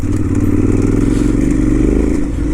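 KTM 990 Adventure motorcycle riding off-road along an autumn track through fields and woods, its engine droning loud and close at a steady pace with rattling clatter from the bike and terrain.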